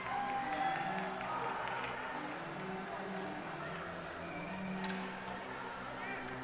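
Crowd noise fills a high school ice hockey arena after a forced turnover, a steady roar of cheering and applause that stays loud and dense from start to finish.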